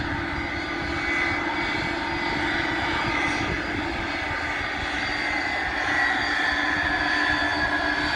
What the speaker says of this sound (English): Modified cargo plane going out of Paine Field into about a 15-20 knot wind